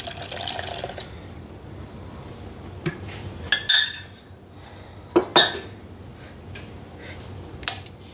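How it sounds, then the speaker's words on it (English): Pineapple juice is poured into the dough mixture for homemade Hawaiian rolls: a short, soft liquid pour near the start, then a few sharp clinks and taps of kitchenware in a quiet kitchen, with no talking. "now we're going to add in 3/4 cup of pineapple juice"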